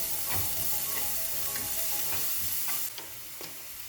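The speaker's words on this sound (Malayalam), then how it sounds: "നന്നായി ഒന്ന് മിക്സ് ചെയ്ത് ഒന്ന് വഴറ്റിയെടുക്കണം." Chopped onions and carrots sizzle steadily in a hot pan for a street-food paneer spring dosa, with occasional scrapes and stirring clinks of a utensil, close and continuous without any talking.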